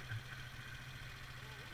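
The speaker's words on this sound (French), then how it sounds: "Mais éteins le moteur." A motorcycle engine idles quietly in a low, even rumble, with a voice faintly present nearby.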